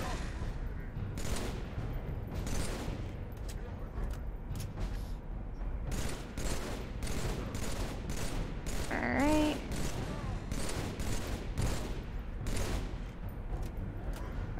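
Rapid bursts of assault rifle fire in Halo 3, loud and close, in repeated volleys with short pauses between them and game effects mixed in.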